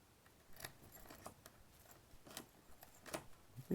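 Keys jangle in quiet, brief metallic clinks and rattles while a smart lock's key is checked, several small bursts spread over a few seconds at close range.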